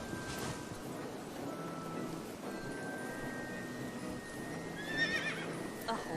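Horse whinnying and clip-clopping hooves in the video game AI: The Somnium Files, a high neigh rising near the end over a steady bed of game ambience, with a voice heard briefly.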